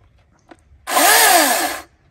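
A battery-powered chainsaw runs at a camp by the Murray River, a short, loud, high electric whine about a second long that rises and falls slightly, with quiet before and after.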